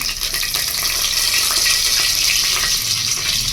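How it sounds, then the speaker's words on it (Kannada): Curry leaves dropped into hot oil with fennel, bay leaf, cinnamon, cloves and cardamom for green pulao, giving a steady, close, bright sizzle with no break throughout. "ಈಗ ಕರ್ಬೇವು ಹಾಕ್ಕೊತಾ ಇದ್ದೀನಿ"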